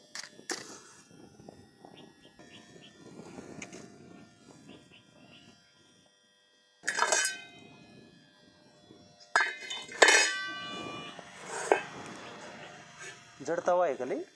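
A few sharp metallic clanks and scrapes of a heavy iron griddle pan being moved near a wood-fired clay stove, separated by stretches of quiet background and a person talking.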